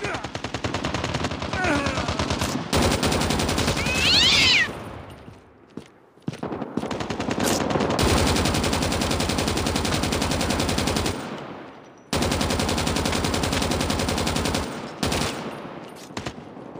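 Rapid bursts of RPD light machine gun fire in the Call of Duty Mobile shooter, loud and sustained, broken by short pauses and a few brief gaps of near silence.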